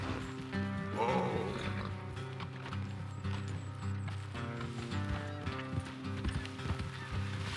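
Horses in Red Dead Redemption 2 trot with steady, moderately close hoof clip-clops under game music and ambient sound, with a faint snort or whinny early on.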